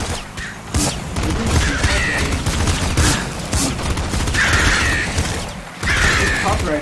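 Pop rifle fire in the video game Nuclear Throne, rapid continuous bursts of sharp popping shots with mechanical clatter and bright impact effects, loud and dense throughout.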